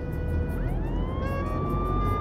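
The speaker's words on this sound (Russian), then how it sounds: "Полицейская машина на посту и в дождь, и в зной." A cartoon police car siren rises in pitch and settles into a steady wail over a constant low rumble, with a faint rhythmic pulsing above, close and alone without talk.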